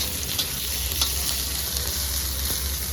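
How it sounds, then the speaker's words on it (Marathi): Steady, close sizzling of onions frying in hot oil, continuous and fairly loud with no talking. "आता आपल्याला हा पातळ चिरलेला कांदा पण भाजून घ्यायचा आहे"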